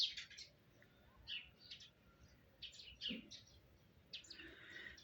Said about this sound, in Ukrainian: горобці співають